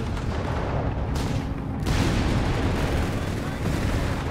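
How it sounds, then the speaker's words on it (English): A 6-pounder anti-tank gun fires in Company of Heroes 3, a heavy booming report set in a dense, continuous din of battle with other gunfire and explosions, and some game voice under the noise. "Pentafor engaged with the 6-pounder gun here, scoring some good hits"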